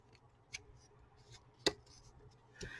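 Scissors snip paper for a miniature envelope embellishment in three quiet, separate cuts, each a sharp brief crunch against a near-silent background.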